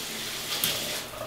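A Delta In2ition shower head sprays water in a continuous broad hiss, steady and close, with a slight shift in texture as the flow setting changes.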